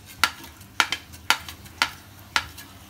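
Whole cumin seeds hit hot white oil for dal fry, giving a series of short, sharp crackling bursts about every half second over a low steady sizzle, close and moderately loud.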